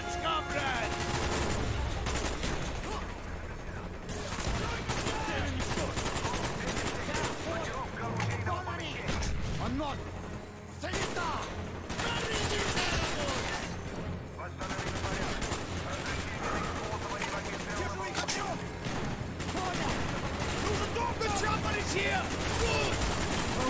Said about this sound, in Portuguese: Eu tô levando tiro do lado, velho.